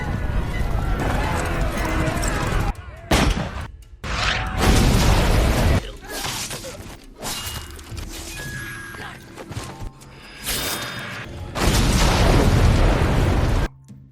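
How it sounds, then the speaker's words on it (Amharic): Sniper gunfire in a warrior film battle scene sounds as loud, sharp bursts and booming blasts, partly under narration, with chaotic noise between the shots. "ሽፍቶቹ እንደደረሱ ባልጠበቁት ተኩስ አጣደፏቸው።"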